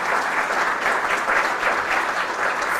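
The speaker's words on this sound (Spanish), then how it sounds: "pido un fuerte aplauso también para recibirlo" Audience applause welcoming Axel Kaiser to a talk, a steady, dense wash of clapping from a large crowd that fills the whole moment without pause and with no voices over it.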